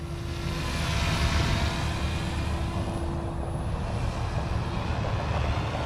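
A steady droning whir of a small OMP Hobby M4 or Goosky RS4 Venom model helicopter in flight, continuous and fairly close, with a constant tonal hum over broadband rotor noise.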